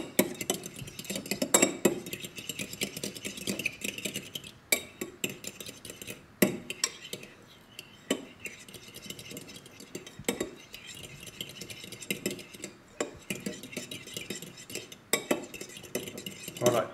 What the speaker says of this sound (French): vous devez mélanger le jaune d'œuf et le blanc d'œuf pour en faire une pâte et un liquide uniforme